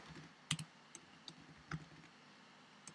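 Keys on a Mac computer keyboard tapped out a command, a handful of soft, quiet clicks spaced irregularly with short pauses between them.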